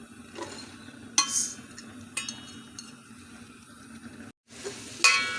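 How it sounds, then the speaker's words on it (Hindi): Cabbage being added and stirred into a sizzling chicken vegetable pulao: a soft steady frying hiss under a few sharp clinks and scrapes of a utensil against the pot, quiet and close. "अब ये बंद गोभी डाल देते हैं।"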